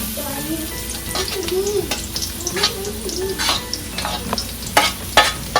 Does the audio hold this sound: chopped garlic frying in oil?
yes